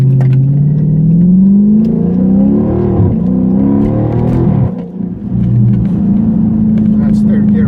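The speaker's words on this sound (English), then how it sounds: "let's paddle shift this thing. See how it even feels" Dodge Charger Scat Pack engine revving hard under acceleration, rising pitch through several paddle-shifted gears with distinct drops at each shift, loud and close from inside the cabin.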